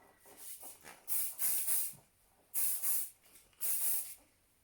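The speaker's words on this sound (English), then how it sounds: "Putting a bit of hairspray through there." Hairspray from an aerosol can misted onto hair during a French twist styling, heard as three loud bursts of hissing spray, each about a second long, with soft handling rustles in between.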